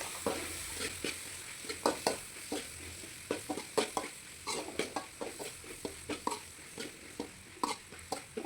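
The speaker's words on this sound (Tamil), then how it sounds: "நான் இப்போது இஞ்சி பூண்டு பேஸ்ட்டு சேர்த்து கொஞ்சம் நல்லா வதக்கிக்கிறேன்" Ginger garlic paste being sautéed in a pan for a pea kulambu, a soft, low sizzle broken by frequent sharp spatula taps and scrapes against the pan at an irregular rhythm, close by.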